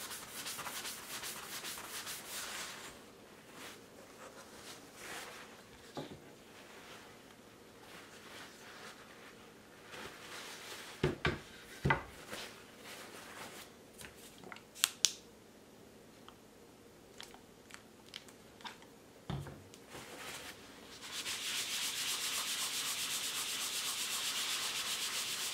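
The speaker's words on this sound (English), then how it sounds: "So if I keep rubbing scratch and dent cover type stuff on it and get it cleaned up" Scratch and dent cover being rubbed by hand onto a rusty gun: a soft, steady scrubbing friction, quiet and close, with a few sharper knocks in the middle and a brisker, louder rubbing burst near the end.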